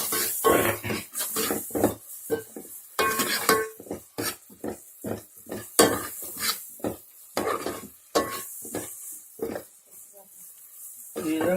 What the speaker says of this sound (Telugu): ఇప్పుడు ఈ మిశ్రమాన్ని మనం టమాటా దాని చారులో కలుపుకోవాలి.